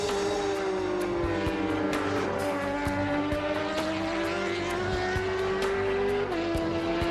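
A Suzuki GSX-R 1000 racing motorcycle screams around a track, its high engine note rising and dipping through gear changes while other bikes add a layered roar; a voice speaks briefly over it.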